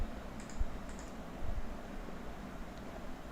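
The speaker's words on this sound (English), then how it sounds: "Sorry, I'm typing in the dark here" Faint computer keyboard typing in a dim room, a few soft scattered key clicks over low steady background noise, with no voices.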